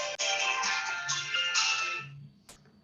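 A phone ringtone plays alone as a steady, loud electronic melody for about two seconds before cutting off, followed by a brief click.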